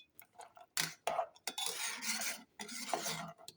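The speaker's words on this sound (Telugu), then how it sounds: "మటన్ మసాలా వేసి ఇలా ముక్కలు పట్టేలా కలుపుకుందాం" Half-cooked mutton pieces are tossed with mutton masala in a pan, giving short bursts of scraping and rubbing from a spoon against metal, separated by brief pauses, close and fairly quiet.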